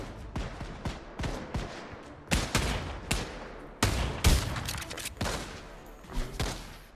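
Gunfire in the VR shooter Pavlov, a series of sharp, loud shots in bursts with short gaps between them, close up and with no talk.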